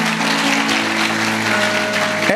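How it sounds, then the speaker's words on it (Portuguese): A church congregation bursts into loud, dense applause, continuous and close, with sustained tonal sounds, likely instruments or voices, ringing beneath the clapping. "Dá uma salva de palmas para Jesus."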